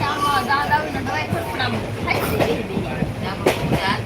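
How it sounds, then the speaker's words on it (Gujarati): Riding aboard a moving passenger train in India: a steady carriage rumble with rhythmic wheel clatter and faint passenger chatter, continuous throughout. "આપણે તો અત્યારે ટ્રેનમાં બેને જઈ રહ્યા છીએ"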